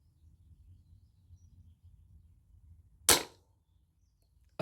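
A single sharp crack from a Daystate Alphawolf air rifle firing at an outdoor target in wind, loud against quiet low background rumble, followed by another shot beginning at the very end.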